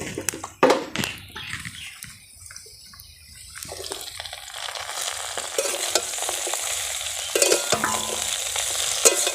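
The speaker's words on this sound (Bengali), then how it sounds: "দেখো বন্ধুরা, কি সুন্দর লাল লাল ভালো করে ভাজা হয়ে গেছে আলুগুলো।" Potatoes sizzling in oil in a pan, with repeated scraping stirs of a spatula at close range, a steady frying hiss underneath.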